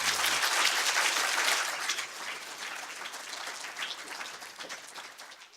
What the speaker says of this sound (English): So can we give Nessa a round of applause?